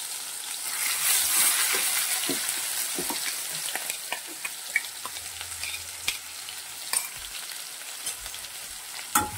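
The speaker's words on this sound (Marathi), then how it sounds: "लो गॅसवरच आपल्याला भाजून घ्यायचे आहे." Besan masala with sesame and coconut roasts in a pan over a low flame, giving a soft continuous sizzle with scattered scraping and stirring taps, close and steady with no talking.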